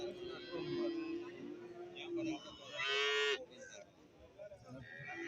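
A cow lets out a long, low moo, then a shorter louder one, nearby amid background voices and crowd noise at a busy cattle and buffalo market.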